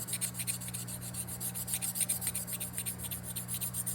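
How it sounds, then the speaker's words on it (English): A 320 grit tool and die stone lightly rubs in quick, even back-and-forth strokes along the cutting edges of an HSS tool, a soft close scratching over a steady machine hum. "Just lightly dressing and deburring just the cutting edges of this tool."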